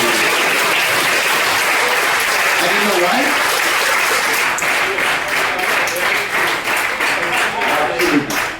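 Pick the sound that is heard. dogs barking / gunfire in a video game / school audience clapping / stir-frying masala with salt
school audience clapping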